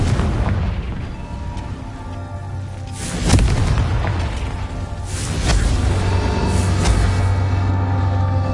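Confringo fire spell explosions in the video game Hogwarts Legacy, several loud booming bursts over a dense rumbling roar of fire and debris, alone without talk.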